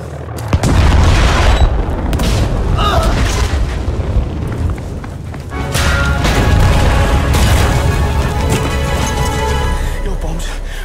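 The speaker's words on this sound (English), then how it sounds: "that's because my bombs went off" Bombs explode in the Battlefield V video game, a heavy booming blast at the start rolling into sustained rumble and a second surge of explosions, with voices speaking over the din.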